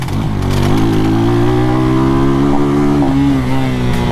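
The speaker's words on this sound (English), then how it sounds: "This is what I miss about bikes, like quick passing, you know?" Sport motorcycles on a Jamaican road, one loud engine roaring close with a steady rising whine as it passes quickly, no voices.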